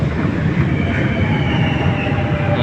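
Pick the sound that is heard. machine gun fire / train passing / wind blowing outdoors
train passing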